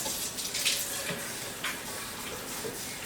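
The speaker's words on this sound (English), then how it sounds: "I add water to the pot," Cold tap water running into a cooking pot for potatoes, a steady rushing splash with small clinks, fairly quiet and without voices.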